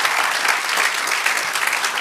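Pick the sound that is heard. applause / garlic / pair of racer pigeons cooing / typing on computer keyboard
applause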